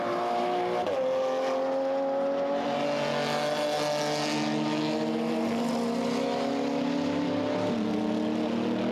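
A GT3 race car powers through the last corner of the Hungaroring circuit in an endurance race, its loud engine note rising steadily with quick gear shifts, close and continuous with no talk.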